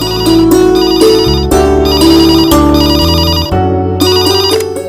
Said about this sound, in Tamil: என்னம்மா போன் எடு